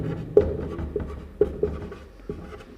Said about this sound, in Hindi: तो यहाँ पर लिखेंगे यूक्लिड विभाजन